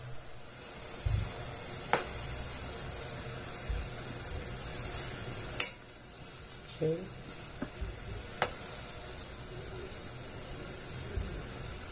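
A herbal remedy for ducks and chickens, made with palm sugar, boils in a pot on a stove. A steady close hiss of bubbling continues with a few faint clinks, and someone says a single short word.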